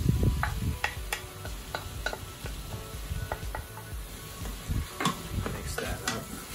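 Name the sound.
stirring and sizzling garlic, ginger and onions in Instant Pot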